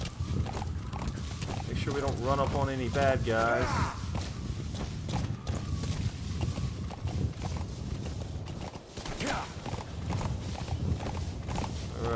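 Hooves of D-Horse clip-clopping in a steady gallop across rocky ground in Metal Gear Solid V: The Phantom Pain, a continuous rhythmic patter running under someone talking and game sounds.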